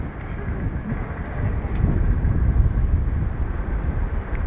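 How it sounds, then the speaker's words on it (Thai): Strong wind buffets the microphone at a scenic hilltop viewpoint overlooking Pattaya city and the sea, a steady low roar that swells louder midway and stays heavy throughout. "วันนี้ลมโอเคอยู่ครับลมแรงเหมือนกัน"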